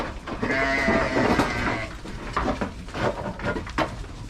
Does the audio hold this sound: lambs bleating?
yes